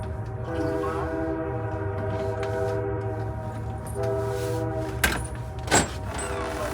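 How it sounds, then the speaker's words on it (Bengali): A train passes right beside a house with a loud, steady rolling rumble and sustained horn-like tones, punctuated by two sharp clanks near the end. "এমনভাবে ট্রেনটা যাচ্ছে মনে হচ্ছে আমাদের বাড়ির একদম পাশ দিয়ে যাচ্ছে এত জোরে আওয়াজ হচ্ছে"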